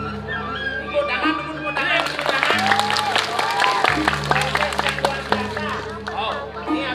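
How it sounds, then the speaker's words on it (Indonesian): A crowd at a Balinese drama gong theatre performance claps and cheers in a dense wash, with a steady hum and tonal sounds running underneath throughout. "Tepuk tangan."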